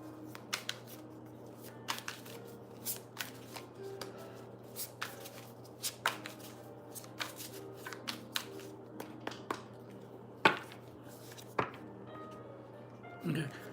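Tarot cards being shuffled by hand, giving soft, faint riffling and tapping in small bursts over a steady low hum, with light handling noises throughout.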